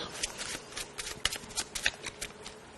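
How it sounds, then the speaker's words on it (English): A deck of playing cards being shuffled up close, a quick series of crisp riffling flutters and snaps over a few seconds. "You just shuffle the card."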